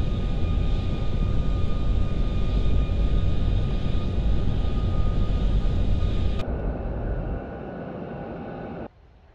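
Airbus A340 engines in the Roblox game Aeronautica roar loudly during a climb, a dense steady drone that steps down twice as power is cut and then drops off near the end.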